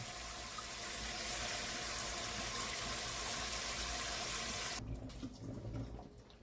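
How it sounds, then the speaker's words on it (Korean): Tap water runs steadily into a kitchen sink while dishes are washed, with a loud, constant gush that cuts off abruptly near the end and leaves faint clinks and handling noises. "설거지를 제가 해야죠."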